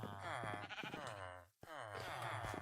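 A sheep in a small pen in the video game Craft Arcanum lets out two long, wavering bleats separated by a brief silence, loud and close.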